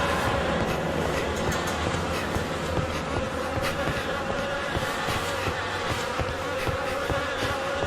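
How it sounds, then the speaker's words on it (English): Insects buzz in a dense, steady drone on a rotting mountain path in The Fidelio Incident, a continuous close hum layered with scattered clicks and rumble and no speech. "The air is heavy with the stink of rot and the buzzing of those damned insects."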